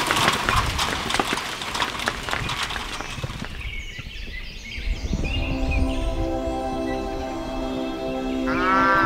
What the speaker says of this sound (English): Waking up listening to cows by the Devil's Tower.